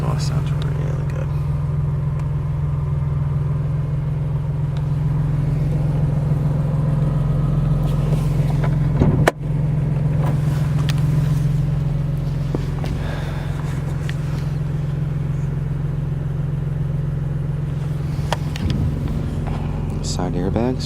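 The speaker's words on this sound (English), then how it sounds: "Exhaust sounds really good." The exhaust of a 2001 BMW M3 convertible drones at a steady, loud idle for about twenty seconds, with one sharp knock partway through and faint rustling near the end.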